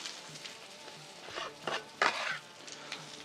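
Onions sizzle in melted butter on a Blackstone flat-top griddle, a soft steady frying hiss with a few scraping stirs and utensil taps, fairly quiet and close, with no talk.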